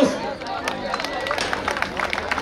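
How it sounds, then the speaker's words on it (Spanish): Rodeo crowd at a jaripeo claps and cheers for a bull rider from Colima, a steady wash of dense applause and voices from many people, moderately loud throughout. "regálenme los aplausos"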